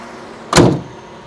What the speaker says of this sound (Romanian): Hai să închidem puțin capota